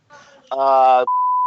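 A voice speaks briefly, then a loud electronic censor beep cuts over it, followed by a sustained pure tone to the end.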